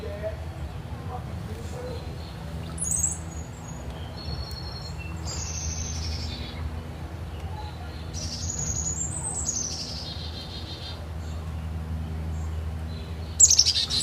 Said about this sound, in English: bird sound meditations